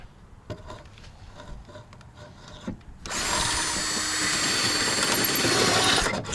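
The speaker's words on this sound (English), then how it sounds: "what you can do is just drill straight through" After a few seconds of quiet handling noises, a power drill whines into life and bores continuously through the sheet metal of a Lincoln MKS rear bumper, loud and close, for about three seconds.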